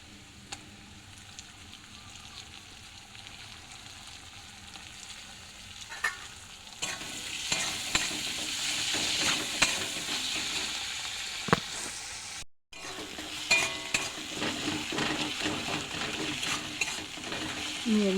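Chopped tomato frying with turmeric in a pan, starting as a soft sizzle that grows louder and busier, with repeated spoon scrapes and stirring knocks close by.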